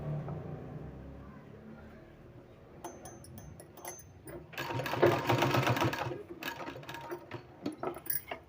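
Sewing machine stitching a two-year-old child's kurta, with quiet handling first, then loud bursts of fast rattling mechanical stitching up close, stopping and restarting in short runs.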